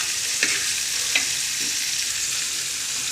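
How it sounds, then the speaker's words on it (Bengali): Small jatka fish frying in a pan, a loud, continuous hiss of sizzling oil with a couple of brief crackling pops near the start, close up and with no voices. "জাটকা মাছ ভাজি করতেছি।"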